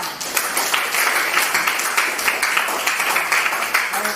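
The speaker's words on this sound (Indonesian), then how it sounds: "kita berikan tepuk tangan dulu kepada mereka" A classroom applauding a student group after its presentation, brisk many-handed clapping that holds steady throughout, with a little talk mixed in.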